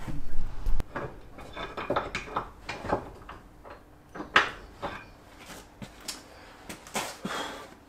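A steel axe head is knocked onto its wooden handle with a series of irregular sharp wooden thuds and knocks, fairly close, with no talking.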